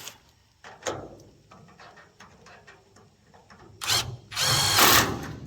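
Power tool tightening a 1/2-inch nut onto a leaf spring bolt on a car trailer, a few short bursts then two louder whirring runs near the end, close by.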